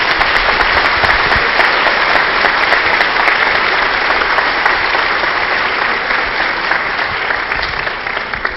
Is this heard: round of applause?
yes